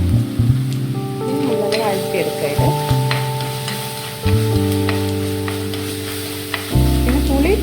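Onion and green chillies tip into a hot frying pan while making a fish curry, giving a steady sizzle with stirring scrapes and a few louder bursts as pieces hit the oil, close up under light talk.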